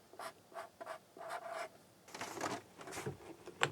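Pen writing scratches close by in short, rhythmic strokes and squiggles, quiet and dry, with no talk.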